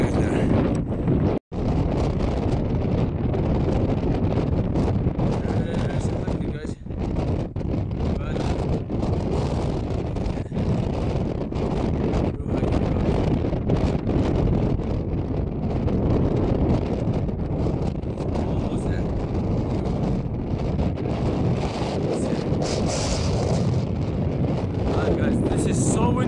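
Strong wind on the Pacific Crest Trail hike to Eagle Rock in California, constant heavy gusts buffeting the microphone with a low roar, and voices speaking now and then.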